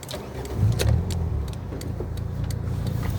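A car engine turns over and settles into a steady low idle inside the cabin, with a few light clicks and a brief swell near the start, no talking over it.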